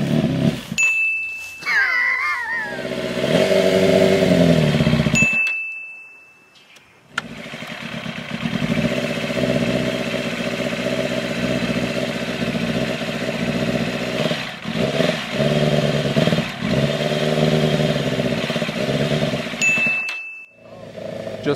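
A new rider's first motorcycle, its engine running and revving loudly nearby for a long stretch, with a drop into near silence partway through and a few short electronic dings.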